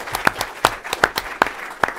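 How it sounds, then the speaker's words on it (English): A conference audience on dams and sustainability in China gives a short round of clapping, sparse, distinct claps from a small group, moderately near, with no talking over them. "Let's applaud these speakers one more time."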